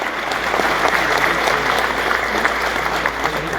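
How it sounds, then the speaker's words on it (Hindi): Sustained applause from an audience at a university convocation ceremony in Uttarakhand, a dense, steady wash of many hands clapping at even loudness throughout. "हाँ, ताली मारिए।"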